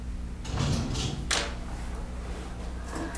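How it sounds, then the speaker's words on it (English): A drawer in a classroom is pulled open and a box of pencils is lifted out: a few soft scrapes and dull thumps close by over steady room noise. "Could you reach into that drawer and pull out the box of pencils?"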